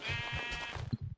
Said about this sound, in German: Und dann suchen wir noch ein Schaf. Ah, das ist ja schon eins.